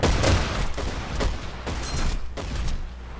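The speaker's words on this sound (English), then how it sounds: "Somebody's shooting me." Gunfire in the World War II shooter Battlefield 1943 on PS3, a dense stream of overlapping shots and booms with several sharper cracks standing out over a steady roar of battle.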